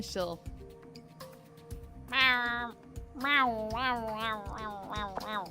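A woman imitates a cat with her voice, giving several drawn-out, rising and falling meows close up, mixed with bits of her own speech.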